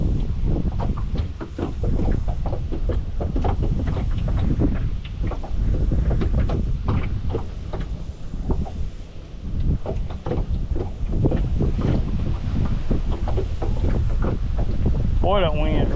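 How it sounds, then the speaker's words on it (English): Strong, rough wind buffets the microphone on a muddy lake during summer crappie fishing from a boat, a steady loud roar that runs the whole time with someone talking over it. "Boy, that wind's rough."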